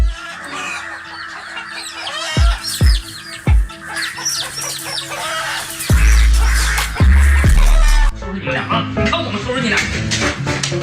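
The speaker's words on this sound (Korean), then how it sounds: "암탉은 까마귀로부터 새끼들을 보호해야만 합니다." A farmyard hen clucks steadily while guarding her chicks from crows, with repeated bird calls, several loud low thumps and other chicken sounds close by. A voice talks over part of it.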